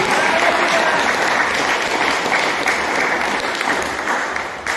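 Sustained applause from a church congregation at a worship service, broad and even, holding strong from start to finish and easing only slightly at the very end.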